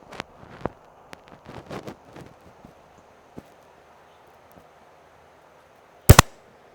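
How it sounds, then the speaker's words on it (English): A sharp crossbow release from a Darton Sequel 35st2 fires once toward a target about 85 yards away, a loud crack near the end. Fainter clicks and handling noises come before it. "Good first shot."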